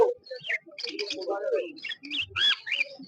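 Lutino and pearl cockatiels at a bird market in Uluberia give scattered bright chirps and whistles at moderate distance, mixed with some murmuring and bird-like vocal sounds.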